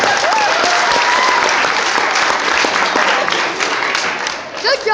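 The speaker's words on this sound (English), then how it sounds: "Let's give my friends a big round of applause." Audience applause breaks out after a strength team performer's feat with a real horseshoe, a dense steady clapping that fills the room, with a voice briefly audible over it near the end.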